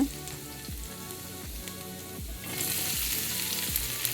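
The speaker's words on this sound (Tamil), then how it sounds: "இப்போ சூடானதுக்கப்புறமா குட்டியாக கட் பண்ணி வச்சுருந்த பூண்டு அதை சேர்த்து நல்லா வதக்கிக்கிங்க." Chopped garlic sautés in hot groundnut oil with a continuous soft sizzle, broken by a few stirring scrapes and growing brighter and hissier in the last seconds; no one speaks.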